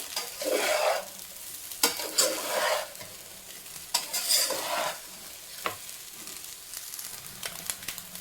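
Baby corn fried rice is stirred in a pan over a steady sizzle of frying, with several bursts of scraping strokes spread through the stretch and no talking.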